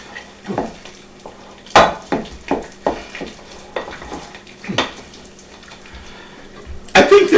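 Irish colcannon with bacon stirred in a pot, a series of irregular scraping and clunking strokes of a spoon against the pot, fairly close and loud, with no speech.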